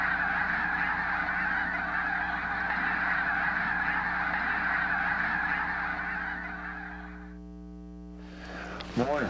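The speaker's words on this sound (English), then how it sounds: "there's a bunch of geese out there right now" A big flock of snow geese mixed with a few Canada geese honks continuously and loudly, a dense overlapping chorus that thins and fades near the end.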